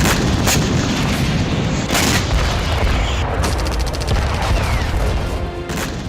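A night bombardment in Zaporizhzhia fills the air with a dense, continuous roar of booms and rumbling blasts, punctuated by sharper cracks and rapid crackling bursts, loud and unrelenting throughout.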